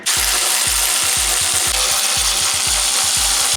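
Rapid hammering impacts, like a power tool breaking loose the brake caliper bolts on a BMW E92 M3, sound as a steady burst of loud percussive blows at close range with no talking.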